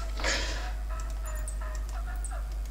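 Wild turkey gobbling in The Hunter video game, answering a locator call: a short rattling gobble near the start, then fainter broken gobbles and calls repeating over a steady low background hum, with no talk.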